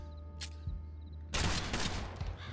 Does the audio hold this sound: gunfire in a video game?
yes